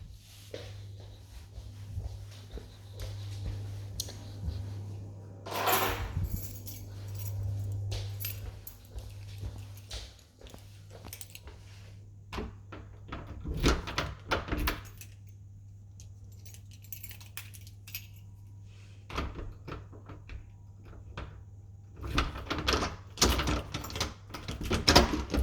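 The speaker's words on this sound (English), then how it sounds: "get the keys to lock the door" Keys jangle and a white front door is locked, opened and shut during a move-in at a house, with scattered clicks, knocks and thuds spread across the stretch against a steady low background hum.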